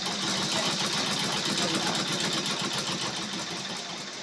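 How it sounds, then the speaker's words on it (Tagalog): An elderly woman, 89, runs a sewing machine at home, a steady, dense mechanical whirring that stays loud and even, easing off slightly near the end. "tignan nyo, nagtatahi pa rin"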